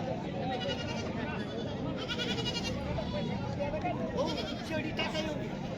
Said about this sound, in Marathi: बघा अशा पद्धतीने गावरान शेळ्या असतात